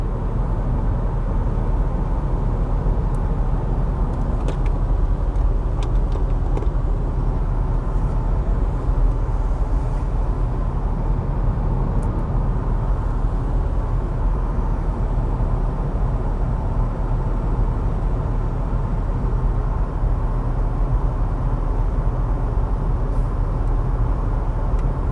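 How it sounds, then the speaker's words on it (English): An MG4 electric car, a 64 kWh model, cruising at steady speed, with a constant loud low road and tire rumble droning throughout and no talk. "Seems like at this speed we hit some resonance in the tire or something."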